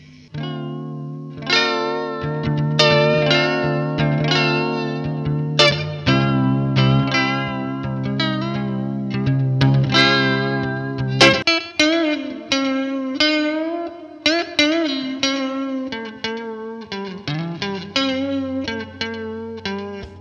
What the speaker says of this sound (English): I'm gonna kick my reverb and my delay back on.